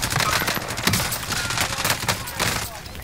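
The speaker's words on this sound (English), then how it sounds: "Someone's shooting from behind." Automatic gunfire in the video game Warzone, dense rapid bursts of shots over a busy noisy mix, with players talking at the same time.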